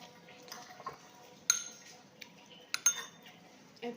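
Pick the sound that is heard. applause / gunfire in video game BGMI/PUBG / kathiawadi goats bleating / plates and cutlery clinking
plates and cutlery clinking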